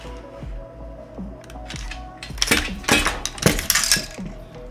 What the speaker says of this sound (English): The bolt carrier group, I can actually pull that out.